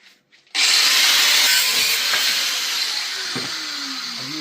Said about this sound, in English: Two grinders, one for cutting, one for grinding.